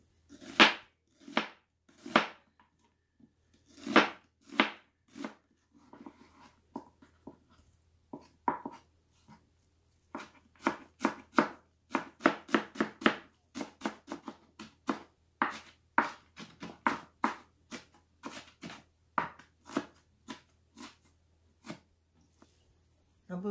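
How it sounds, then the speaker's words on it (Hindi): A knife chops onion on a board in crisp, close strokes: a few spaced cuts at first, then quicker runs of rhythmic chopping with short pauses in between, over a faint background hum. "इसको भी चॉप करूंगी."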